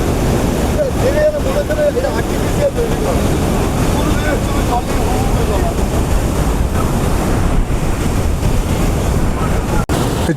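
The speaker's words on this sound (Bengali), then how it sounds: "জলের কি ফোর্স, জলের কি গর্জন, জাস্ট একবার দেখুন এখান থেকে।" A waterfall near Dhanbad roars with a loud, steady, unbroken rush of falling water that fills the whole clip, with indistinct voices of a crowd faintly mixed in.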